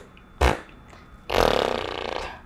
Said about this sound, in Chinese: 当我们在练习弹唇的时候